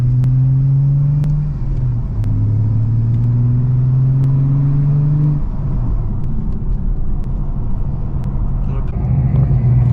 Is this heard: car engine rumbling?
yes